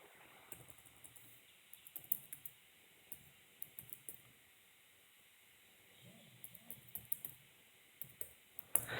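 Fingers type on a computer keyboard in short bursts of quiet, close key clicks separated by pauses, over a faint steady background hiss.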